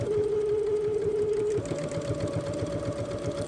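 A sewing machine backstitches a seam on a zipper pouch, a close steady motor whir that shifts pitch partway through as the stitching direction reverses.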